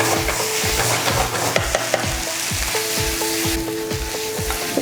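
Curry leaves, shallots and garlic sauté with mutton sukka in a pan, giving a steady close sizzle with regular rhythmic stirring strokes and no talking.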